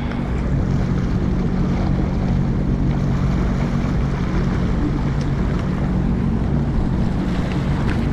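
A boat moving on water in the Great Lakes, with a steady low engine drone and wash of waves and wind noise running continuously at moderate loudness, no talking.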